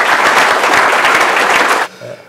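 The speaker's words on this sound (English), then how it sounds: "give him a round of applause" A room of people applauding a speaker at a talk, a loud, dense wash of clapping that holds steady for about two seconds, then cuts off abruptly into quiet.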